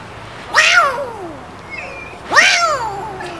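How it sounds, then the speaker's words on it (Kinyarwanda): A phone plays two loud, drawn-out cat meows, each falling in pitch, spaced about two seconds apart with quiet between them. "umva kuranya ipusi"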